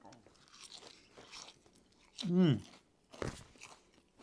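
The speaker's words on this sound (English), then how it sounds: "I can already hear the crunch from the panko." A single loud, close crunch of a bite into Caesar salad with toasted panko, with soft talking before and after it.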